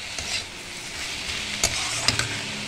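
Ridge gourd with jaggery fries in a pan as it is stirred, a continuous soft sizzle broken by a couple of sharp spoon scrapes against the pan, close and without speech.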